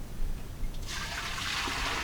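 Water pouring into a pot for steel-cut or rolled oats for Atholl Brose in a cool shop, starting as a faint trickle and swelling into a steady, close, hissing stream that runs to the end.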